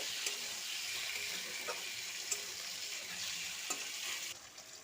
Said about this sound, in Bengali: কড়াতে তেল গরম হলে মাছগুলো তার মধ্যে দিয়ে ওলটপালট করে ভালো করে ভেজে নেব।